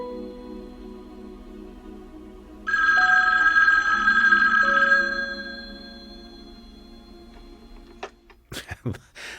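A telephone rings in a 1974 film scene, a loud electronic bell tone lasting about two seconds then fading, followed by quiet room tone and a few sharp clicks and knocks at the end.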